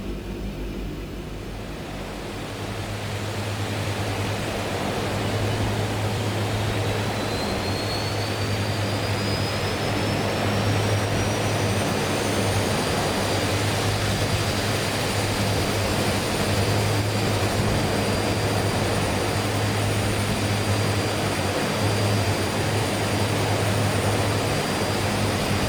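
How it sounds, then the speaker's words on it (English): Left engine of a DHC-6 Twin Otter turboprop starting in Microsoft Flight Simulator, heard from outside: a steady loud turbine whine and roar that builds after a couple of seconds, with a rising high-pitched tone, then holds constant. "we'll head outside for the left engine start, just so you can hear the startup sounds in a bit more detail"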